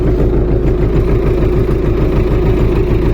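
A tractor engine idles steadily close up, a loud, even low rumble with a regular mechanical chug that holds unchanged from start to finish.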